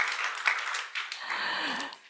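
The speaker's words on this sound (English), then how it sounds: "Yes, we can clap to encourage them." Audience applause at a research challenge finals event, steady clapping from a crowd that fades out toward the end, with a voice briefly speaking over it.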